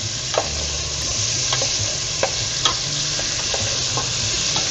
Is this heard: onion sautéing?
yes